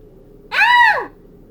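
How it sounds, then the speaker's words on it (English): Scream sound effect played in Scratch: one loud, rising-then-falling shriek lasting about half a second over a low steady hum, alone with no talk. "We're going to play a sound, and so the sound we're looking for is scream."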